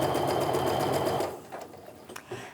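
A sewing machine stitches quilt strips in a fast, loud, even whir for over a second, then stops. A few quiet clicks and handling sounds follow.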